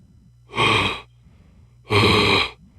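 A voice mimics heavy, Darth Vader-style breathing against metal: two long, loud, rasping breaths separated by a pause, close and alone.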